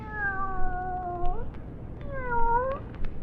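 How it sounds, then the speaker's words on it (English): Two drawn-out meows from a nearby cat in a 1950s–60s radio mystery drama, each wavering and sliding in pitch, with a short pause between them. "Here, kitty, kitty, kitty, kitty, kitty."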